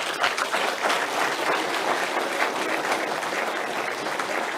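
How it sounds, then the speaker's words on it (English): An audience at a lecture on the Surangama Sutra applauds with a steady, dense wash of clapping from many hands, even and sustained throughout at moderate volume. "Hoorah and clapping and all that."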